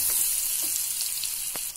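Garlic cloves and about two inches of ginger frying lightly in a pan, a loud continuous hiss of sizzling oil with a couple of faint spoon taps, close and without voices.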